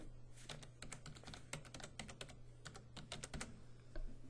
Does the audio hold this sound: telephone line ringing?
no